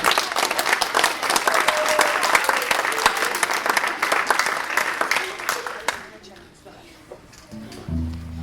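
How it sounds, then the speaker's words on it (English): A recital audience at a student string concert for grades 4-6 breaks into loud, dense applause for several seconds, then the clapping fades out and a few low tones follow near the end. "you can give a round of applause"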